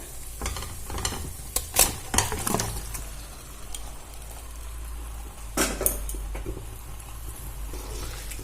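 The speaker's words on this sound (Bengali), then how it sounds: "এবারে আমি দিয়ে দেবো ম্যারিনেট করে রাখা মাংসটা" Marinated chicken hits hot spice paste in a pan, Bengali style, bursting into a loud sizzle with clattering stirs and scrapes, steady frying hiss throughout and a second burst of stirring later, close and without speech.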